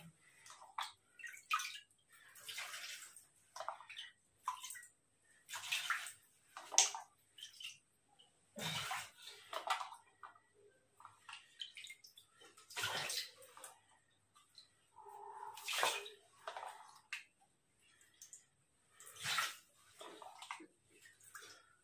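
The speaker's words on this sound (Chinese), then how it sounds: "现在呢我们就把这马桶里面的水把它先清理掉" Water from a toilet bowl is scooped with a disposable cup and poured into a floor drain, giving a series of separate splashing pours and trickles at close range, spaced out over quiet gaps.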